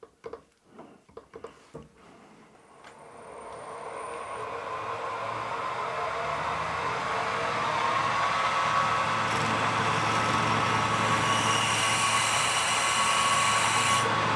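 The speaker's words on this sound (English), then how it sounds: "I've got the drill lined up spot on." A few sharp knocks and clicks, then a power drill with a 5mm bit whines up and grinds continuously, growing slightly louder as it bites through a metal bolt clamped in a vice.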